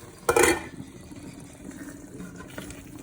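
Water poured into a pot of Ghanaian peanut butter soup with goat meat, a short splashing burst near the start, then a quieter bubbling simmer.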